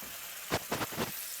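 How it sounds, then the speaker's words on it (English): A grassfed ribeye steak sizzles in a hot pan, with a few soft crackling bursts over a faint background hiss, close by and with no talking. "Let's hear that sizzle."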